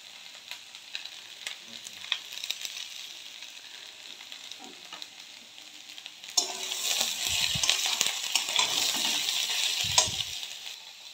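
Potatoes and onions fry with salt and turmeric in a pan, a soft sizzle with occasional stirring scrapes that grows louder and denser partway through.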